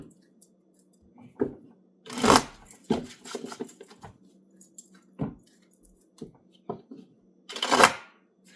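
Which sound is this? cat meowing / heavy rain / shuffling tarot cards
shuffling tarot cards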